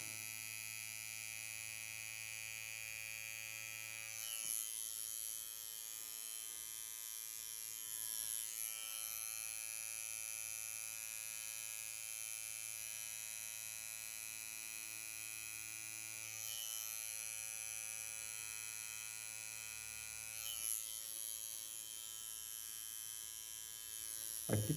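A tattoo machine buzzes steadily and close while a lily with a whip-shaded finish is being tattooed, a constant electric whine with strong hum that barely changes, broken by a few small clicks and shifts.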